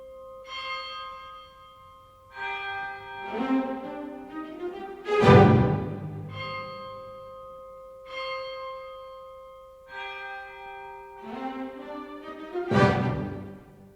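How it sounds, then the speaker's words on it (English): A deep church bell tolls a slow death knell, several heavy strikes with long ringing decays, spaced apart and loud against a quiet orchestral background. "A bell sounds a death knell."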